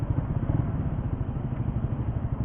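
A 2020 Suzuki GSX-R 150 motorcycle engine while riding, a close, steady, pulsing drone with rhythmic clattering beats, loud and unbroken for the few seconds.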